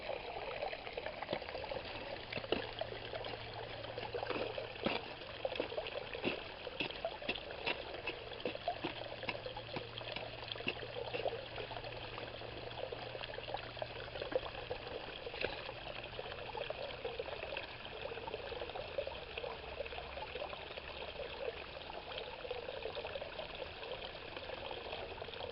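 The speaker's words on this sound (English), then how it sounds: "I started to run it through that sluice" Water and paydirt run through a gold sluice at Cache Creek, Colorado, making a continuous soft trickling wash with scattered faint gravel ticks, steady and fairly quiet throughout.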